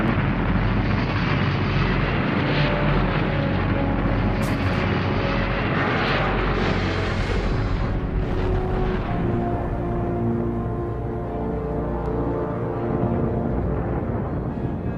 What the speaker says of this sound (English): Vanguard rises a few feet, loses power, and explodes.